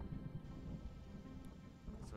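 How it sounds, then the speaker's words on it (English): A low thunder rumble rolls under steady rain in a video game scene, faint and continuous, with a voice briefly heard. "Uh-oh, you heard that? I think it's about to rain."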